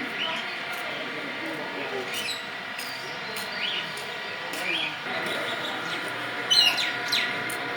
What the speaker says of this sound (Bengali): পাখির ডাক অনেক সুন্দর,